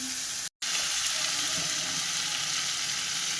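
Potatoes and eggplant fry in hot oil with dried chilli, bay leaf, tomato and ginger, a dense, even sizzle close by with faint stirring and one brief dropout.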